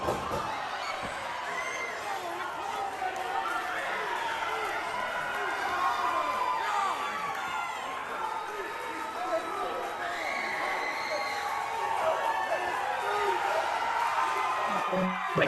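Crowd at a ringside wrestling event cheering and whooping steadily throughout, a dense roar of voices with shouts rising over it.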